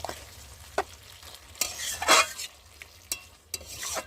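A spatula scrapes and clanks through a pan of drumstick-stalk chorchori with potato, pumpkin and flat beans after a little water goes in, giving scattered knocks and one longer scraping sweep in the middle, close and alone.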